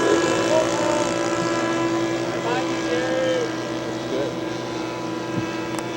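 Radio-controlled scale model airplanes fly overhead at a scale aircraft show, their engines droning and whining steadily, several at once with shifting pitch, fairly distant under background crowd noise.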